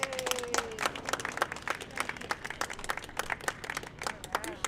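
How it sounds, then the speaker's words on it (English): An audience at a Los Angeles Day of Remembrance event applauds, a fairly faint, continuous rattle of many hands with a brief tonal sound near the start and distinct claps peaking irregularly across the span. "Let's give a round of applause for you guys."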